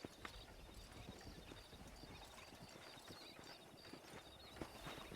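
Horse hooves clip-clop in a steady trotting rhythm in the Western video game Red Dead Redemption, close and continuous, with a faint whinny and music underneath.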